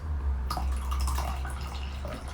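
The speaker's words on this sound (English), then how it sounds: "So I'm going to go ahead and pour a little bit of tea." Tea trickles steadily into a cup in a continuous close splashing pour over a low background hum.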